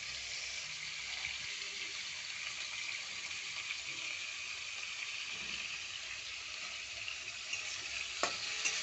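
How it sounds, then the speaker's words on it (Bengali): Salted prawns fry briefly in a pan for fried rice, a soft, constant sizzle with faint stirring and a sharper scrape near the end. "বেশি ভাজবো না, চিংড়ি মাছ বেশি ভাজলে শক্ত হয়ে যায়।"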